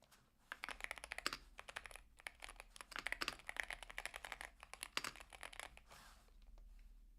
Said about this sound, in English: Listen to this typing, guys.